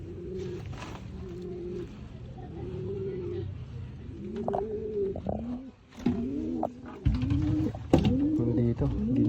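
Pet pigeons coo repeatedly in a rhythmic, throaty series, close by, with scattered rustling and handling noises around them.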